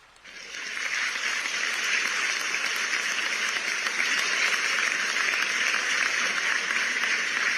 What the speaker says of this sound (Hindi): आइए जोरदार तालियों से हम और आप इस पुनीत कार्य का हिस्सा बने।